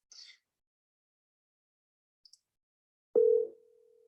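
Phone tones from an outgoing call: a few faint brief blips, then one clear steady tone that starts loud and drops to a quieter sustained hum, set against near silence.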